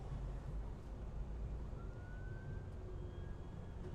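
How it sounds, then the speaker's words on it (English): Fire department sirens wail faintly in the distance, a thin, rising tone heard through steady engine and road rumble from inside a delivery truck on the road. "Where are those sirens coming from?"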